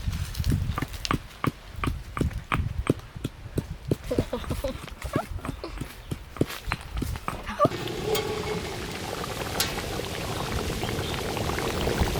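Water poured into a pan of mutton heart masala with salt, turmeric, chilli and coriander powder, a run of sharp splashing ticks giving way to a steady close pour, with no talk.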